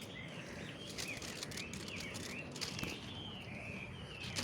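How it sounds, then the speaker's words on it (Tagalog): Birds chirp and whistle faintly in short, scattered calls along a mountain hiking trail, set against a soft outdoor hiss with occasional light footsteps and rustles. "Nakakatawa ang mga huni ng mga ibon."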